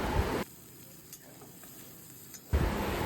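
Tomato with turmeric and spices sizzles faintly in hot oil in a pan as it is stirred for a sandwich filling. The soft, continuous frying hiss briefly drops quieter in the middle.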